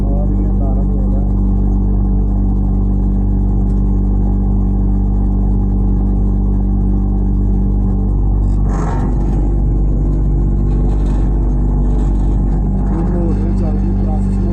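An industrial dehumidifier unit runs after switch-on, its process and reactivation motors giving a loud, steady low hum with even tonal drone throughout, while someone talks over it.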